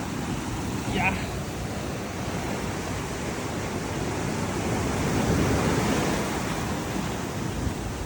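Sea waves wash onto a hidden beach near caves in Visakhapatnam, a constant loud surf roar with wind buffeting the microphone.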